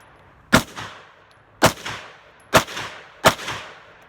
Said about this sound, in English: I run 5 rounds of the Liberty Ammunition Civil Defense 50 grain plus P 9mm.